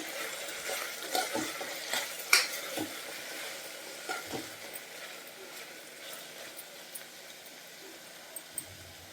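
Ingredients for a catering-style capsicum masala curry fry in a pan and get mixed with a spoon, a soft sizzle with a few scattered scrapes and clinks, fairly close and moderately quiet.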